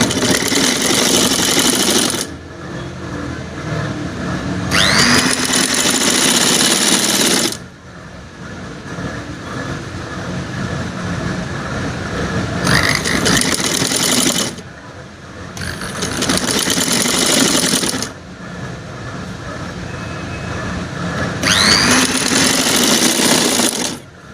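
A sewing machine stitches the crotch seam of a palazzo in several bursts of fast, loud mechanical whirring, separated by short quieter pauses, with no talking.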